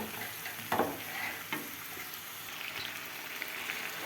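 Onions sizzle and crackle steadily in a hot pan, with a few sharp clinks of a utensil stirring near the start and middle.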